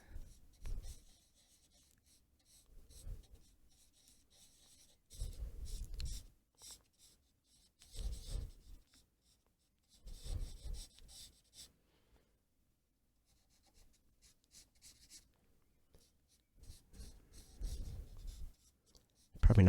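Nitram charcoal scratches and rubs across paper in short bursts during quick figure sketching, faint and close, with quiet pauses between strokes.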